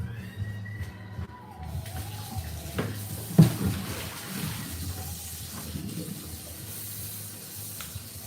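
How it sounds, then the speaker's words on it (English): Water running from a tap while a mixing bowl is rinsed out in a home kitchen during pound cake baking, a continuous splashing flow with a clunk of the bowl partway through. "I got to rinse out my bowl."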